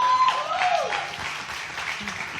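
Audience applause at an agricultural entrepreneur pitch finale, sustained clapping from a crowd with some tonal squeal-like sounds mixed in early on, gradually settling lower in level.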